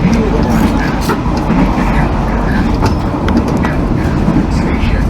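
Kamandaka passenger train rolling into Pekalongan station, a steady loud rumble of rail cars with faint clickety-clack heard from on board, with people talking in the carriage.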